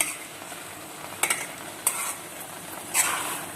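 Sukiyan filling sautéed in a pan over high flame, a low steady sizzle with three sharp scraping strokes of a spatula against the metal, no talk.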